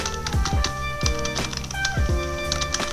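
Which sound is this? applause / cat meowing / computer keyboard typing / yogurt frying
computer keyboard typing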